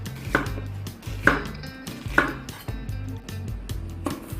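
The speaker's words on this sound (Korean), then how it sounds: "양파를 채 썰어주세요." A knife slicing onion into thin strips on a cutting board, with several crisp, evenly spaced chops close by, no talking.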